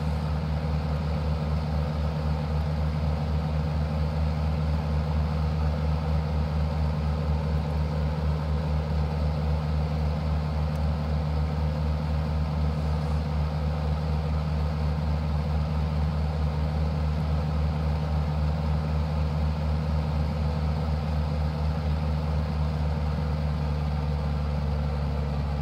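Tiger Moth biplane engine in flight, a steady loud drone with a strong low hum that persists unbroken throughout, heard from inside the open cockpit.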